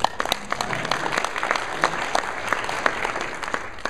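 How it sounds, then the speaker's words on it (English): A small audience applauds Darien with a few seconds of scattered, sharp hand claps, close and distinct rather than a dense roar. "Big round of applause for Darien."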